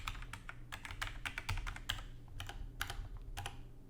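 Rapid, uneven keystrokes on a computer keyboard as a server IP address and username are typed in for a VOIP voice server setup. The clicks are close and fairly loud, with no talking.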